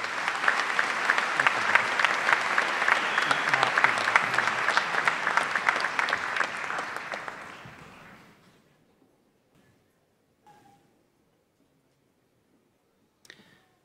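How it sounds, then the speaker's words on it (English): A commencement audience gives sustained, dense applause for graduates, loud and even for about seven seconds before fading away into near silence, with a couple of faint isolated sounds afterward. "please join me in a round of applause in recognition of the special level of accomplishments of these graduates"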